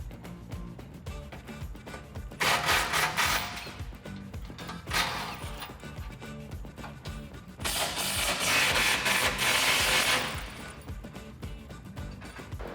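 15mm skid plate bolts being removed from a Ford Raptor pickup, two loud bursts of rattling power-tool or ratchet noise separated by quieter clanking work, close and without talk.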